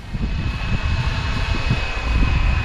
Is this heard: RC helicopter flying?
yes